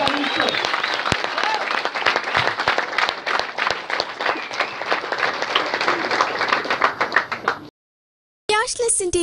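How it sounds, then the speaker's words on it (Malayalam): A large audience gives sustained, dense applause with many overlapping claps for nearly eight seconds. A brief silence follows, then a different loud sound cuts in abruptly. "നിറഞ്ഞ നിലയ്ക്കാത്ത കയ്യടിയോടുകൂടി"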